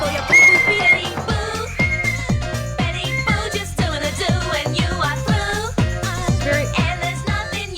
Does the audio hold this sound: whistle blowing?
yes